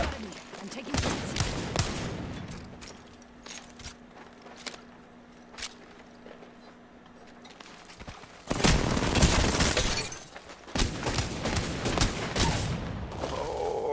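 Bursts of gunfire from a multiplayer shooter video game ring out in several loud clusters, with dense volleys midway and toward the end, separated by quieter stretches of footsteps and game noise.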